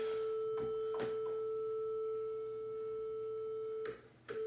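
A steady pure sine tone from a Behringer Model D analog synthesizer hums continuously, with a couple of faint clicks near the start and end.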